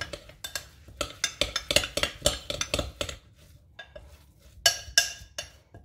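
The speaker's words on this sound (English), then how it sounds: "And I'm just going to stir this up." A spoon stirs banana bread breakfast cookie batter in a bowl, making a quick run of clinks and scrapes against the bowl that pause briefly, then resume with a few sharper knocks.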